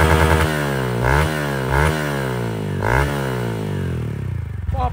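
Honda XRE 190 motorcycle with a modified exhaust, running loud and close with a steady idle broken by three quick throttle blips that rise and fall, then a rougher idle.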